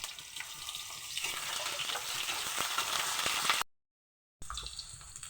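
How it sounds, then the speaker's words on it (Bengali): Papaya, kohlrabi and carrot fry together in a pan with a continuous moderate sizzle and occasional stirring clicks. It stops briefly, then the sizzle resumes. "পেঁপে দিয়ে দিলাম, এবার ওলকপিগুলো দিয়ে দিলাম, গাজরও দিয়ে দিলাম, একসাথে ভেজে নেব।"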